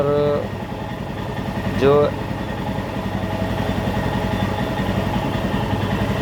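A Royal Enfield 411 motorcycle engine idles with a steady, low, even chugging close by, while someone talks over it for the first two seconds.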